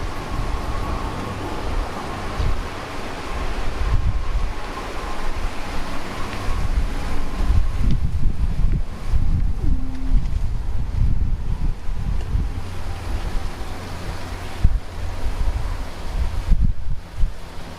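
Wind blowing through a garden near the beach, a steady loud rumbling buffet against the microphone, continuous with gusty swells and no talk.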